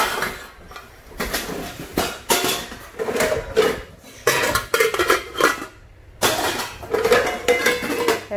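A solid cast metal frying pan, 21 cm across and 9 cm deep, is set down repeatedly with loud metallic clanks and clattering in a busy secondhand kitchenware sale, strikes spaced irregularly across the clip.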